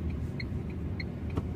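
Cars stuck in a traffic jam on a road leading to the Kot Bhramari fair and temple at Dangoli, heard as a steady low rumble of idling vehicles with faint intermittent higher tones and one brief sharp sound near the end.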